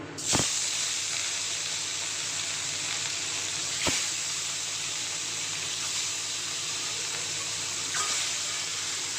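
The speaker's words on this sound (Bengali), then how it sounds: "এখন আমি মাছগুলোকে ভেজে নেব মাছগুলো দিয়ে দেবো" Catla fish pieces frying in smoking-hot oil: a loud, continuous close hiss and sizzle that stays steady throughout, with a couple of sharp clicks from handling, and no talking.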